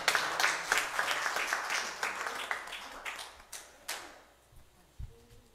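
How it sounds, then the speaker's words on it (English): A church congregation claps for a minister, a modest ragged round of hand claps that thins out and fades after a few seconds, with a few stray claps and a soft thump near the end. "Give Minister Boot a hand clap as he comes and dismisses."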